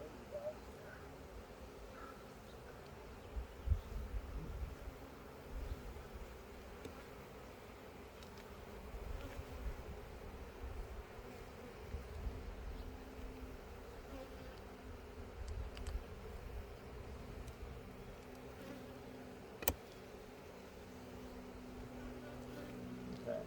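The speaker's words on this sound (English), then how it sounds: "this is my strongest hive." Honeybees buzz in a dense, steady hum around a strong hive, close by and fairly quiet, with a few brief knocks and clicks from handling frames.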